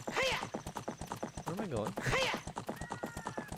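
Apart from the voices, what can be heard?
horse Epona hooves clip-clopping in Ocarina of Time video game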